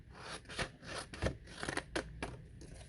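Scissors cutting cardstock paper below a score line for a papercraft box, a quick series of soft, close snips and crisp paper rustles with no talking.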